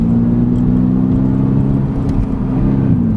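2022 Subaru BRZ engine revving hard under wide open throttle, a loud close steady drone heard from inside the car, holding strong for about three seconds with a slight dip near the end.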